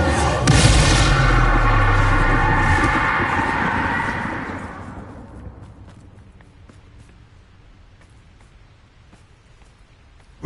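A Bombarda explosion spell in Hogwarts Legacy lands as a loud, dense blast that rumbles and crackles for several seconds before decaying into a low, lingering tail.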